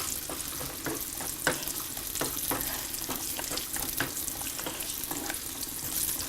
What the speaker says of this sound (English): And when the golden raisins, when they fry, they inflate.